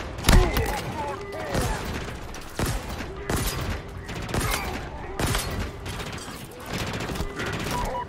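Gunfire aimed at the player in the Halo campaign, with brute enemies nearby: repeated loud bursts and sharp shots cracking through a busy battle din, with talk underneath.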